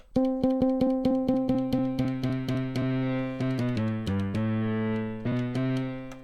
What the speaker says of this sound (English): With some nice distortion that I like.